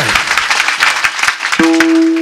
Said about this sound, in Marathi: टाळी वाजवा एकदा त्याच्याकरता, जोरात वाजवून जरा त्याच्याकरता